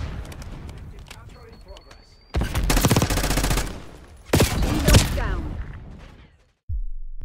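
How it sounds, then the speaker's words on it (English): Sniper rifle firing rapidly in the Black Ops 6 beta: two loud bursts of heavy shots with dense gunfire texture, separated by quieter background game noise, over a speaking voice. "rapid fire on the sniper makes it shoot as fast as, the longbow did"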